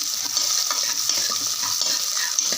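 Shallots sauté in oil for a country chicken curry, making a bright, steady hiss with fine crackling pops. Faint stirring scrapes come through close and clear, with no voices.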